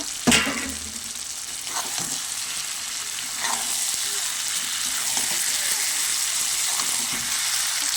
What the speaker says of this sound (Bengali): এবারে বড়ি আর মাছগুলো দিয়ে আর একটু ভালো করে কষিয়ে নেব